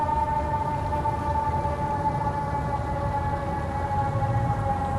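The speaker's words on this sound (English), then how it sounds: "That's a fire truck. There's a fire truck," A steady siren drones from a distance under constant low background rumble, its tone holding nearly level throughout.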